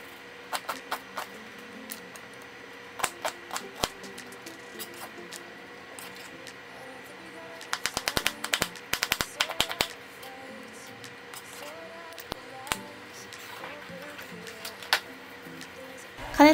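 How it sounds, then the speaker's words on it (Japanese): A knife finely chops onion on a cutting board in bursts of sharp, close taps, sparse at first and then a rapid flurry of quick strokes, with faint kitchen background. "玉ねぎをまたみじん切りしていくんですが"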